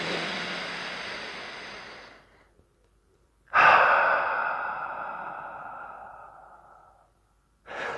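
Deep, slow breaths for sprint preparation, taken with the eyes covered by the hands: a long airy exhale, a pause, a sharp intake flowing into another long breath, close and clear with no talking.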